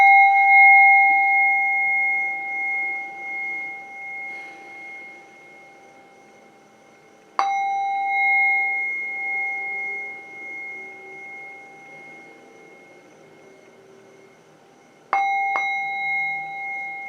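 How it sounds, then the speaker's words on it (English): A bell rung to clear energies during a calm guided relaxation, struck three times at even intervals, each bright ringing tone hanging on and slowly fading, close and clear with no talking. "All right, using my bell."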